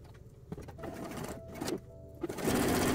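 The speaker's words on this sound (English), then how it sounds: "And top stitch." Domestic sewing machine top stitching a lined bra cup, running in short close bursts with pauses between, a steady mechanical whir and rattle.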